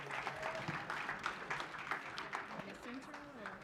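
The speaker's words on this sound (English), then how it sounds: "Round of applause, please." An audience applauds panelists as they arrive and take their seats at a panel event, steady mid-distance clapping mixed with chatter and voices.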